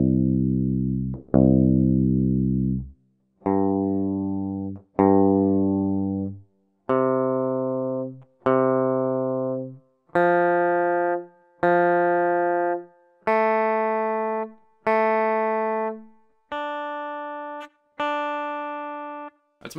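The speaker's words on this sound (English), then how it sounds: "all of the electric guitars are in drop C" Electric guitar strings plucked one at a time in drop C tuning, low to high, each note ringing out with a long sustain before the next, about a dozen clean notes in steady succession with no talking.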